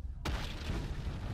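A huge video-game explosion in Ultimate Epic Battle Simulator goes off after a short silence, a sudden deep boom followed by a loud rumbling roar that carries on without fading, with no voices.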